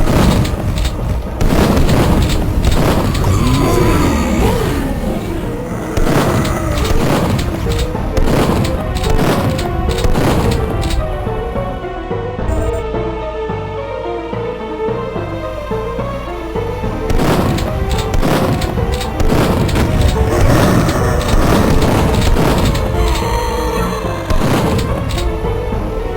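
Repeated booming explosions from Duke Nukem 3D as the Hollywood sign is blown apart, loud dense blasts recurring throughout over a busy game soundscape of music and effects, with a quieter stretch in the middle.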